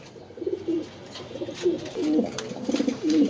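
A Barless Beauty pigeon coos softly in repeated low, rolling phrases, nearby, with gentle pauses between calls and a quiet background.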